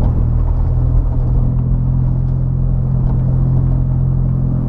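Toyota Hilux SW4 3.0 at speed on the road, a loud steady engine drone and tire rumble holding constant throughout without a break.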